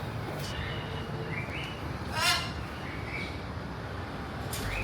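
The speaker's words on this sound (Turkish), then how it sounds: "Ama bir sürü kuş sesi geliyor." Many birds call around a charging stop in Queensland, a few short chirps and whistles scattered over a steady outdoor hum, with one louder call near the middle.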